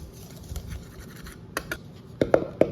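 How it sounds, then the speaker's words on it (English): Dry ingredients with baking soda are whisked in a bowl, giving soft scratchy scraping at first, then a few sharper clinks and taps of the whisk against the bowl near the end, close and fairly quiet, with no talking. "we're just going to whisk this up until it's well combined"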